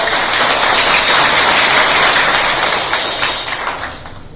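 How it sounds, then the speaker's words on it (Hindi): An audience at a poetry gathering gives dense, loud applause to welcome a poet, a steady wash of clapping that fades a little toward the end. "आप तमाम साथी तालियों के साथ चेतन आनंद जी का स्वागत करें।"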